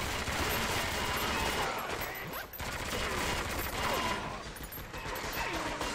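Dense, rapid gunfire runs steadily through a firefight in 007 Agent Under Fire, thick and continuous under a busy mix of game noise.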